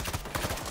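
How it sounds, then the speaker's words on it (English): A sniper rifle firing in a video game, heard as a short burst of sharp, rapid cracks in quick succession, loud and close. "Oh, shit, it's a sniper."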